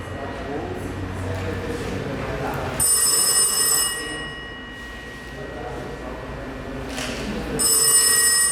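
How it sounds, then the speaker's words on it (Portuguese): A telephone rings in two bursts of electronic bell tones, set in a theatre rehearsal, with people talking underneath and between the rings. "aí tocando o telefone"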